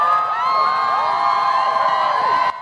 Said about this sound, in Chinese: 欢呼声震耳欲聋。